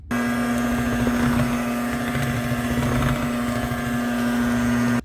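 An electric mixer whirs steadily and loudly, blending peanut butter into a creamy vegan pie filling, a constant motor drone with a strong hum that runs for about five seconds and then stops abruptly.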